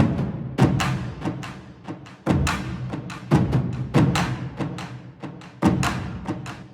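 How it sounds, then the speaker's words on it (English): Two war drum layers combine into a thick, booming rhythm of repeated strikes with strong accented hits and short ringing tails, played alone without talk. "And then when we combine the 2 war drums together,"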